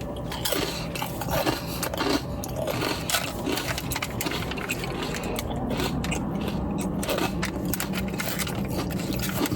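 Someone chewing a snack bought from a gas station, close crunchy bites and mouth noises repeating steadily over a constant background rumble, no talking.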